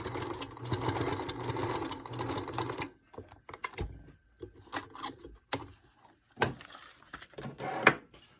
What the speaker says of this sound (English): We take it to the sewing machine and sew it on.